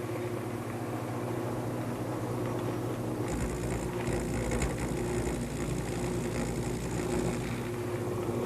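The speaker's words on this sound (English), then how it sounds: "I'm just going to use my broad gouge and just very carefully round over the" Wood lathe spinning a square bed post as a broad gouge rounds over its corners, a steady motor hum and whir with a harsher cutting rasp joining partway through, continuous and close.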